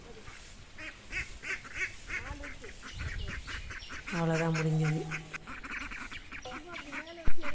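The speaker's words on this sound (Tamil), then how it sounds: "இந்த ரெண்டு வாத்தும் இன்குபேட்டரில் முட்டை வச்சு வந்த வாத்து" Two incubator-hatched ducks in a garden quack in short nasal bursts, one louder honking call in the middle, mixed with brief speech nearby.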